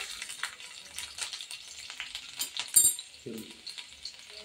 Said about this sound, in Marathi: आता तेल गरम झालेलं आहे, तर त्याच्यामध्ये मी 1 टेबलस्पून लसूण टाकते.